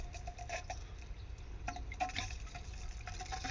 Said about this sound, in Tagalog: tubig na po yan ay galing dito sa may pressure tank